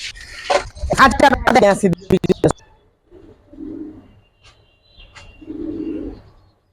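Giribaz pigeons with red-pied silver colouring give two low, soft coos, each about a second long, after a stretch of close talking. Between the coos the surroundings are quiet.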